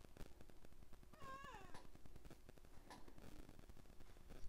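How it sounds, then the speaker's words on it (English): A house cat lets out a single rising-and-falling meow near the middle, faint against a backdrop of rapid clicking and tapping noises. "or one of my cats, is just kind of being a nuisance"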